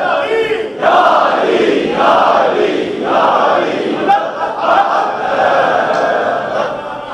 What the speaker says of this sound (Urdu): یہی وجہ ہے کہ نعرے پیچھے سے لگ رہے ہیں، آگے سے بھی لگ رہے ہیں